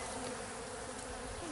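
Honey bees at a beehive being robbed by other bees, a dense, steady, continuous buzzing swarm close by, filling the whole stretch evenly with no voices.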